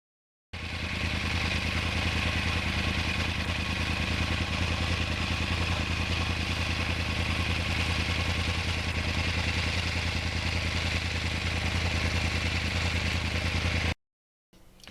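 A 2009 Yamaha R1 crossplane sport bike's engine drones loud and steady while it is ridden through twisty roads. The rough, throbbing exhaust note holds for about thirteen seconds with no speech, then cuts off abruptly.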